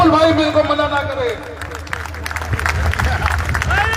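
A crowd at an outdoor political rally in Faridabad breaks into applause to welcome a politician, clapping rising beneath an amplified speaker's voice and continuing as he talks.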